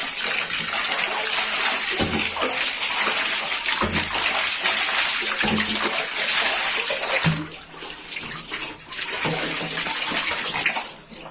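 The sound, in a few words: water running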